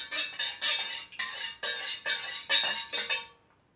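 Melted wax for wax melts is stirred after fragrance is added, giving close scraping and clinking strokes of a utensil against a container in short rhythmic bursts before fading to quiet. No one speaks.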